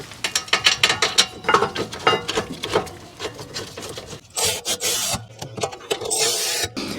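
Ratchet tightening caliper bracket bolts on an Acura TL during rear brake service, a run of rapid rasping clicks in quick bursts, close and fairly loud, with a steadier grinding scrape toward the end and no talk.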